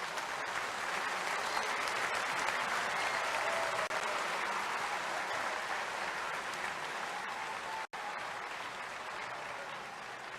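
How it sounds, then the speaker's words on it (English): Sustained audience applause at an event honouring India for its support of the Tibetan people, with the Dalai Lama present: dense, even clapping filling the full ten seconds, with a very brief dropout near the end. "The applause clearly demonstrates that."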